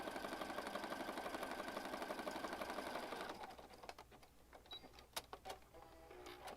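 A sewing machine stitches a pocket onto a junk journal page in a steady, rapid mechanical run for about three seconds, then stops. A few scattered clicks and light handling noises follow.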